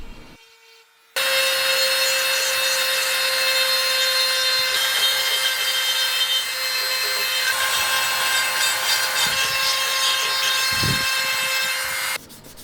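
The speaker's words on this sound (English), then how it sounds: "And I rounded the edges with this bit on my rotary tool." A rotary tool with a bit rounds the edges of a hand-carved walnut bowl, producing a loud, continuous high-pitched whine with a grinding rasp against the wood, running steadily for about eleven seconds after a quiet start.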